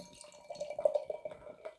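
Beer from a Badlands, Blood Brothers and Third Moon blend pours into an old glass, a soft gurgling trickle with faint clinks and splashes, quiet and close.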